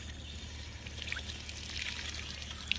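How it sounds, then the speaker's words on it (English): Water trickles and pours into dry Quikrete mortar mix as it is stirred for a stone pathway mold, a faint, steady wet dribble with small splashes, quiet and close. "you want me to add water while you stir? Right now you got dry, just kind of start with some water in there"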